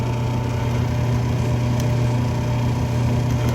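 A drill runs at a constant whine, steady and close, humming without pause, with no voices over it, while oil is evacuated from the hole as it drills.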